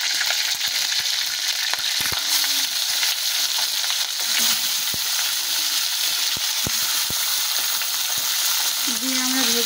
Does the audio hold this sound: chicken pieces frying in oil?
yes